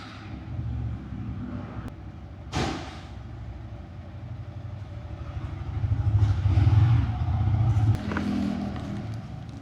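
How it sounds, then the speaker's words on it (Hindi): A motorcycle engine runs close by after a fresh engine oil change, giving a low, steady rumble that swells louder past the middle before easing back. "ये देखो गाड़ी में एकदम जान आ गया, एकदम आवाज़ ही चेंज हो गया एकदम।"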